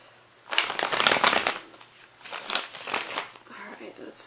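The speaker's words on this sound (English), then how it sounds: "let's start shuffling here." Tarot and oracle cards are shuffled close to the microphone in crisp, riffling bursts that come in two main rounds, with softer card handling and a voice talking quietly underneath.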